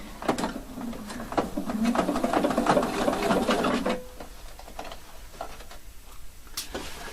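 A sewing machine stitches a straight waistband, a rapid rattling run for a few seconds up close, then stopping and giving way to faint handling clicks and scattered taps.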